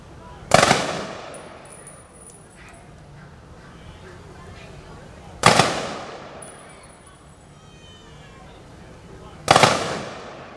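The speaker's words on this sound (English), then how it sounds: "There's going to be some loud gunfire sounds." Three sharp, loud rifle volleys of a 21-gun salute at a July 4th patriotic program ring out several seconds apart, each echoing away outdoors before the next; faint ambient noise fills the gaps.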